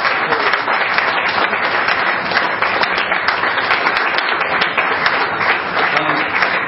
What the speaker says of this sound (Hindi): संयुक्त रूप से इस महान कार्टूनिस्ट का सम्मान करें और तालियों की गड़गड़ाहट से